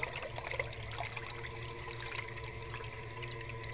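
A waterproofed electric motor and ESC run fully submerged, churning water into a whirlpool: a steady, close swirling and trickling wash with a constant low motor hum underneath, no speech.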